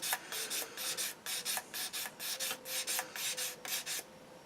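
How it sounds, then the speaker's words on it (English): Sanding a Tamiya Calsonic Skyline model kit with a lower-grit sander gives a steady run of rhythmic rasping strokes, about sixteen quick back-and-forth scrapes, close and fairly loud with no talking. "I was just switching to a lower grade or lower grit sander"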